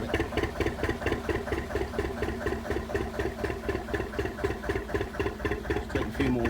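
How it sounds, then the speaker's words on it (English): The old canal boat engine works hard with a steady rhythmic chugging beat that is continuous and close, with no voices. "we're working the old engine hard."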